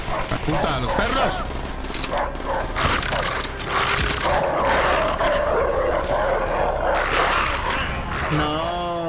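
Attack dogs snarl and bark amid gunfire and battle noise in Call of Duty: World at War, mixed under a player's excited shouting and loud, dense combat sound throughout.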